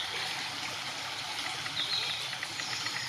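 A river flows with a steady, even rushing hiss, moderately quiet and continuous, with no voices.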